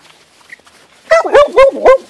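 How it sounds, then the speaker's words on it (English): A small dog barks four times in quick succession, close and loud, after a brief quiet moment. "Don't bark, little guy."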